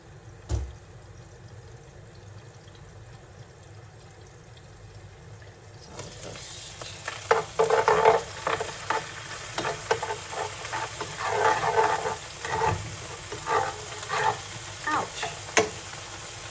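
Chopped ginger cooking in a pan for a prawn and egg noodle soup, a quiet hiss that swells into a steady crackling sizzle with scattered pops and spoon scrapes, no talking.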